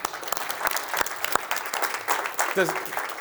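A small audience at a real estate listings seminar gives light, scattered clapping, with individual claps standing out and some talk mixed in.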